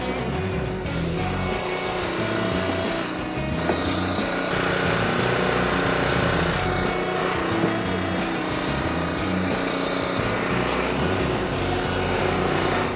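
High-flow log splitter engine running steadily, a loud continuous small-engine drone with a brief dip near the start and shifting mechanical clatter, no talk.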